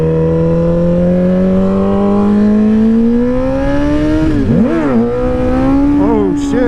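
A heavily loaded motorcycle with a full fuel tank revs loudly up through a wheelie, the engine note climbing steadily, then dipping and surging in quick throttle blips near the end, with rushing wind underneath.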